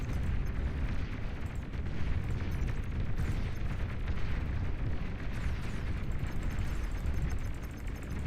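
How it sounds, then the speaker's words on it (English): Explosions and heavy gunfire from a Beyond All Reason game battle as an enemy commander is destroyed, a dense, loud, continuous roar of blasts with no voices over it. "Enemy commander destroyed."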